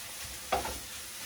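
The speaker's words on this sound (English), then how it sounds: "You can see that the egg is now being scrambled" Eggs with peppers and onion in a pan over high heat give a steady sizzle, with one brief scraping stir standing out near the middle of the short stretch.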